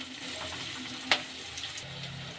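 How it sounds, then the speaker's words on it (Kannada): Chopped onions and mustard seeds fry in oil for a bitter gourd palya, a quiet, steady sizzle with one brief sharp click near the middle. "ಈರುಳ್ಳಿ, ಎಣ್ಣೆಯಲ್ಲಿ ಫ್ರೈ ಮಾಡ್ಕೊಳ್ಳೋಣ ಈರುಳ್ಳಿ ಚೆನ್ನಾಗಿ"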